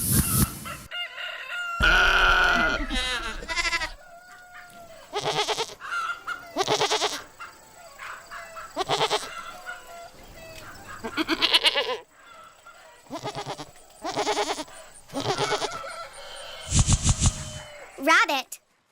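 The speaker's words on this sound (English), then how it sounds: "Goat." Farm animal sounds in a quick sequence, a goat bleating among loud rooster crows and clucking chickens, each call short and close, separated by brief gaps with no talk.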